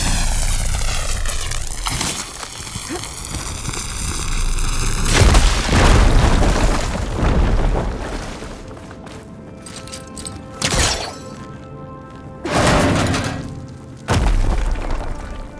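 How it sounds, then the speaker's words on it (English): A fire beam is blown up in Horizon Forbidden West, a loud booming explosion with a heavy blast around the middle, followed by rumbling bursts and crackling debris against a droning game soundscape. "Should be able to blow up that fire beam."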